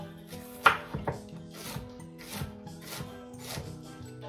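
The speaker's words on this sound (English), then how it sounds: "And now I turn it around like this, and then you chop it" Knife chopping bok choy strips on a board, with a sharp first cut followed by a run of soft, evenly spaced cuts, close and fairly quiet under faint background music.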